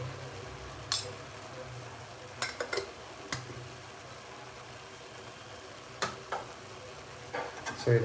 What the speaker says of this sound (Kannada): ಸೊ ಇದನ್ನು ಚೆನ್ನಾಗಿ ಕೈಯಾಡೋಣ.